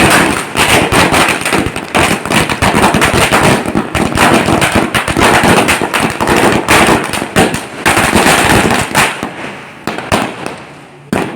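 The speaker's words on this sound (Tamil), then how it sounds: "இன்னைக்கு நாங்கள் ஹாப்பி நியூ இயர் அடுத்த வருஷம் பட்டாசு வெடிக்க போகிறோம்." Dense volley of New Year firecrackers bursting continuously for over ten seconds, loud rapid cracks and pops at close range, thinning slightly toward the end, with no talk over them.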